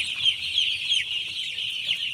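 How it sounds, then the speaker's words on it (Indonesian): Broiler chickens in a poultry farm barn, a dense chorus of clucking and chirping birds close by, continuous with no talk. "ini udah berada di kandang peternakan ayam potong"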